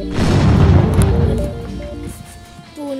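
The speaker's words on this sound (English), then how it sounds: "Oh, an explosion." A booming explosion in the Roblox Piggy game strikes loud and broad near the start, then rumbles and fades over a couple of seconds as tonal game sounds ring out underneath.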